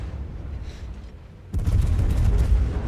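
Torpedoes launched from a ship in World of Warships: a sudden loud, thumping launch burst cuts in over a low engine rumble and carries on as a dense, rumbling rush. Nothing spoken.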